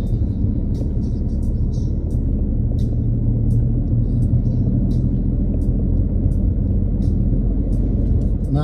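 A car cruises along the Italian autostrada from Sanremo toward Nice, slowed by roadworks, with a steady, close engine and tyre rumble that fills the interior and continues without a break.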